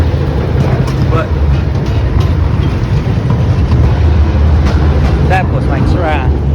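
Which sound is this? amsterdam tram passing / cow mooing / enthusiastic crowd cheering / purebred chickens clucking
amsterdam tram passing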